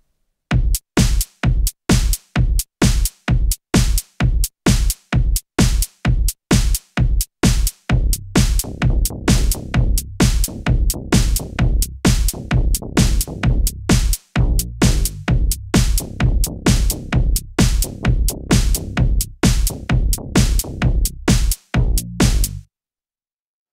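An FM synth bass played live on a MIDI keyboard into the Renoise tracker running on a Raspberry Pi pulses in short, evenly repeated notes, loud and close, at first separated by gaps and then packed denser and continuous before stopping.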